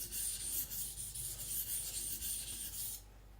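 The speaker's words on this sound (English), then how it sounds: "I'm sharpening the full blade, thinning it, then establishing an edge." Knife blade sharpened and thinned across a whetstone, the full blade worked in steady back-and-forth scraping strokes for about three seconds before stopping.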